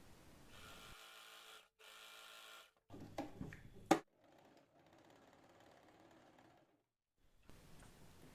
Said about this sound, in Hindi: यहाँ पे हम डबल सिलाई लगाएंगे अच्छे से।